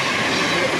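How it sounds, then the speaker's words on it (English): A train passes at night on the East Coast Main Line at New Southgate, a loud, close, steady roar of wheels and rail noise throughout. "that train that just went by"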